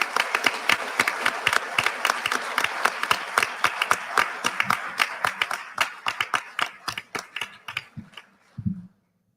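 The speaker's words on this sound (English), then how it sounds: "please join me in a round of applause" A round of applause at a Marine Corps acquisition awards dinner, crisp clapping that starts dense and steady, then thins into scattered individual claps before fading out.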